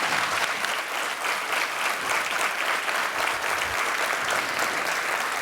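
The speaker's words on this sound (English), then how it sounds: "Can we have a big round of applause for them?" An audience of parents applauds a children's school performance with continuous, full clapping that holds at an even level throughout, with no talk over it.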